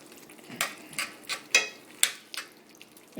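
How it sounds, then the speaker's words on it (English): Chili being stirred in a pot on a stove top, a series of about six separate scraping, clinking strokes of a utensil against the pot, close and moderately loud over a quiet background. "So I'll just mix that all up."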